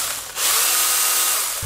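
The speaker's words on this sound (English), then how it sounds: "it is a small pruning chainsaw" A Makita CXT UC100D small cordless pruning chainsaw spins up abruptly into a high, steady motor whine, running close and loud for about a second before cutting off.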